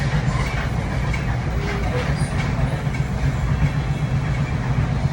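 Interior of a moving commuter train headed toward Newark Penn Station, a loud, constant low rumble and rattle of the carriage with steady rolling noise throughout.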